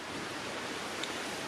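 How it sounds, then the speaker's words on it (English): A river flowing past a hammock camp, heard as a steady, even wash of rushing water with no breaks, close and moderately quiet. "Just listening to the sound of the river."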